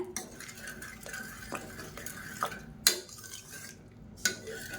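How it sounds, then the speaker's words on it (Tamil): A ladle mashes fenugreek rice porridge in a cooking pot, giving soft scraping and stirring with a few sharp metallic clinks against the pot, quiet and close with no voices. "அது நல்லா கரண்டியை வச்சு நல்லா அந்த மாதிரி மசிச்சு விட்ருங்க."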